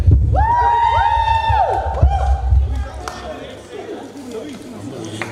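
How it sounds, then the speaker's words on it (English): Cheering and whooping from a student crowd at a university union hustings for sports officer candidates, loud at first with tonal shouts, then easing into murmuring chatter. "Let's hear a bit of cheer."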